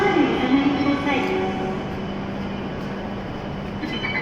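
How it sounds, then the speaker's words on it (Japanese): An E7 series Hokuriku Shinkansen Hakutaka train stands at platform 13 of Kanazawa station before departure for Tokyo, giving a steady low hum with a ringing tone early on while a platform announcement plays over it. "白鷹566号の東京行きまもなく発車いたします。"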